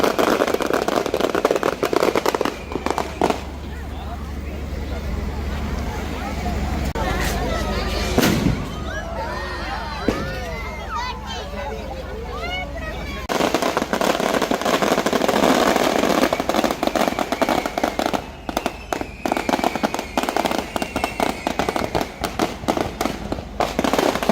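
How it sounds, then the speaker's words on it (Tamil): Fireworks display after a Catholic church service, with repeated loud bursts and crackling pops, some near and some distant, over a large crowd with people talking throughout. "பூசை முடிஞ்ச அப்புறம் இந்த வான வடிக்கை நடந்து கொண்டு இருக்கு வேறங்க."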